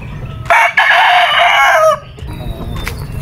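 A three-year-old Brown Gray gamefowl rooster crows once, loud and close, in a single strained call of about one and a half seconds over quiet farm background.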